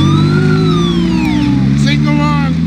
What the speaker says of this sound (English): It's a police siren, Barnacles.